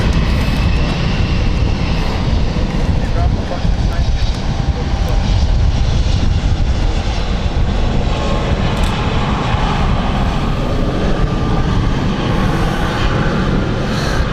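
A KLM airliner flies past at London City Airport, a loud, steady broadband engine roar that fills the whole stretch without fading, with a voice talking over it.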